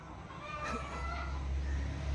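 Faint chicken clucks and calls over a low steady hum, quiet and somewhat distant.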